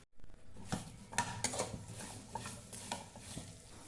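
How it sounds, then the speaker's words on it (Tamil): Soft scraping and clinking of a utensil stirring mango pieces in a pan, with irregular light taps and a faint sizzle, quiet and close. "மாங்காய் துண்டை சேர்த்து சிறிது நேரம் வதக்கிக்குங்க."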